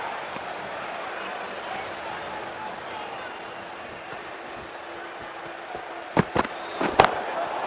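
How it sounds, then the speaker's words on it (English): A cricket bat striking the ball for a six during an IPL match between CSK and RCB, two sharp cracks near the end rising above a steady stadium crowd roar. "Head was completely still and they've struck that hard, high and long for 6"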